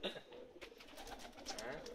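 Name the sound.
pigeons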